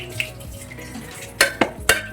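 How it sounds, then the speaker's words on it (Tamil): Pots, pans and dishes being washed in a home kitchen, with a low background clatter and then three sharp metallic clanks close by near the end, no talking. "மேடம் இன்னைக்கு பாத்திரம் கழுவிட்டு இருக்காங்க."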